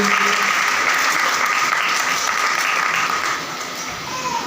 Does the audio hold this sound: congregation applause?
yes